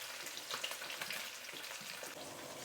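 Fish deep frying in hot oil at medium to medium-high heat, a soft, continuous sizzle with fine crackling bubbles and small pops, fairly quiet and close, with no voices.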